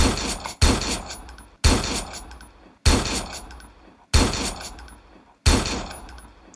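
A weak gun in Roblox fires five separate shots at roughly even intervals, each a sharp loud crack that fades out before the next, with a faint metallic ring and no voices.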